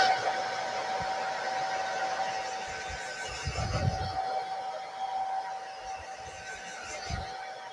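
Hair dryer blowing over drying paint on a round wooden sign, a steady whirring hum running throughout at moderate level, with light handling knocks partway through.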